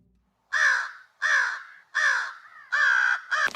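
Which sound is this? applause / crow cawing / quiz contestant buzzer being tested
crow cawing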